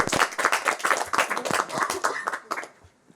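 A small live audience at a music room session claps in a brisk, dense round of applause that lasts about two and a half seconds before quickly fading out.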